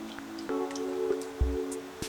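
Water rinses vinegar off fish, with soft drips, splashes and a wet squish in the foreground over a faint, steady tone.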